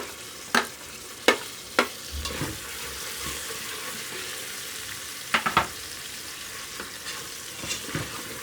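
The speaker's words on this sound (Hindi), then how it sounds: "अदरक लहसुन का पेस्ट हमारा भून चुका है। अब इसमें टमाटर डालेंगे।" Steady sizzling of tomatoes frying with ginger garlic paste in a pan, with several sharp scraping clinks of a spoon stirring at irregular intervals.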